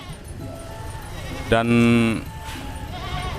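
A goat bleats loudly and close by, one long wavering call at a livestock market in Sumoroto, Ponorogo, with crowd noise and someone talking around it.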